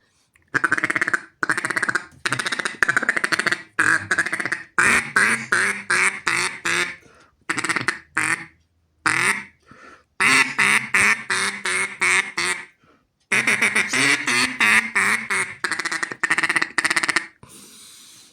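A handheld duck call horn, handmade in Russia, blows loud, close runs of raspy quacks in quick rhythmic series, separated by short pauses and imitating a real duck.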